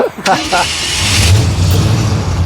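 A car engine turns over and settles into a low, steady running rumble as the vehicle is driven up onto a weighbridge for caravan weighing, with a person speaking briefly at the start.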